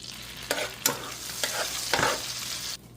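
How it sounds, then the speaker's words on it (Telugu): Whole spices fry in hot oil and butter for paneer butter masala, giving a bright continuous sizzle with several sharp crackling bursts and spoon scrapes, close and without speech, then a sudden drop near the end. "ఈ ఆయిల్ బటర్ వేడెక్కినాక మనం ఇందాక తీసుకున్నట్టు మసాలా దినుసులు వేసేస్తాం."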